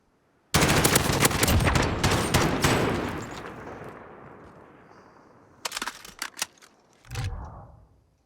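Rapid bursts of gunfire in a competitive esports video game gunfight, dense crackling volleys at first that trail into echo, then a few sharp separate shots and a final short burst.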